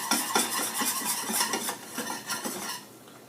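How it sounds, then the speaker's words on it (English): A utensil stirs Alfredo sauce in a pan, scraping and clinking in quick repeated strokes, close and fairly quiet, then easing off near the end. "We're going to stir it until we've incorporated it, okay, together."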